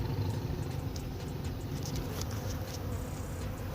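Honey bees buzzing densely around rooftop beehives in the city, a constant close hum with individual bees zipping past, with faint traffic rumble beneath.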